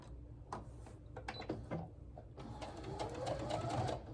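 A sewing machine stitching pieces of a plaid shirt quilt, starting with a few slow individual stitches and then running into a steady quick whir, fairly quiet and close.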